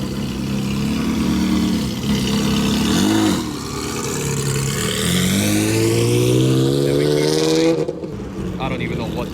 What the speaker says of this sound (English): There's one supercar rolling by now, 360 Spider, I believe.